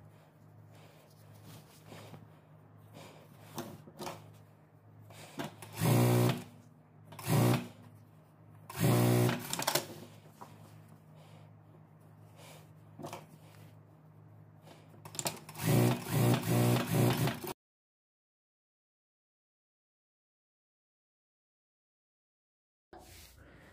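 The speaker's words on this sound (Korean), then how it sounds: "스티치 한번 놓으시면 돼요." A sewing machine stitches a seam on a one-piece dress in short bursts of loud rapid whirring, separated by quieter handling pauses, before falling silent near the end.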